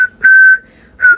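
Someone whistles two short clear notes, a longer steady tone followed by a brief second one after a pause, close and loud in a quiet room at home.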